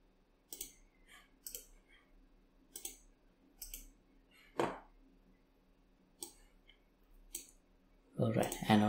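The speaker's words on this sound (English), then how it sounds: "And we can select individual ones also by just clicking." Sharp computer mouse clicks come one at a time at an uneven pace while selecting units in an Unreal Engine 5 RTS game, and a burst of rapid clicking closes the sequence.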